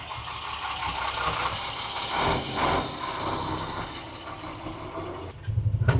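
A large truck rumbles past close by on a narrow mountain road, its engine swelling loudly and then easing away, followed by a coarse pulsing engine throb near the end.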